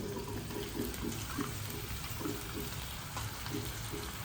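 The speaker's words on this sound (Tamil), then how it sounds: "இப்போ நம்ம இது கூட கழுவி வச்சுருக்கிற காடையை போட்டு வதக்கிடலாம்" Washed quail meat sautés in a pan for a Chettinad pepper fry, making a steady, close hiss and sizzle with soft wet crackle throughout and no talking.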